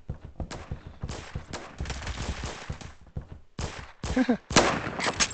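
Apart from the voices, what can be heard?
gunfire in the video game Phantom Forces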